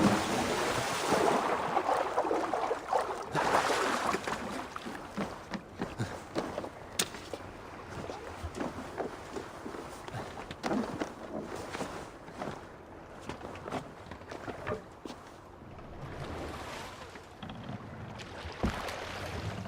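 Viking longship moving across water in Assassin's Creed Valhalla, with steady sloshing water and wave wash under creaks and thuds of the hull, continuous and fairly loud throughout with no talking.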